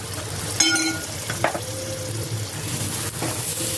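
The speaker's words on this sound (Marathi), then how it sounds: "आता मी बारीक हे गॅस करून परतून घेतोय की वांग्यात भरतलंय." Onion and coconut paste with brinjal sizzles quietly in a pan, a low steady frying hiss broken by a few clinks and scraping stirs of a utensil.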